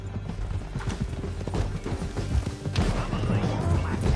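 Rapid hoofbeats of a galloping horse in Red Dead Redemption 2 pound steadily alongside clattering noise and a loud, busy game soundscape.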